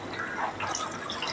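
Water is poured over chopped potato, carrot and plantain in a cooking pot, making a short, steady splashing trickle close by.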